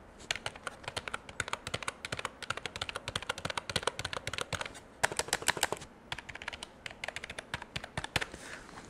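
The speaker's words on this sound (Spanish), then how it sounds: "Me voy a pegar el teclado al micrófono para que lo escuchen" Rapid, crisp clacking of Ocelot Gaming OGEK03 MX mechanical keyboard keys typed continuously up close, with a brief pause near the middle.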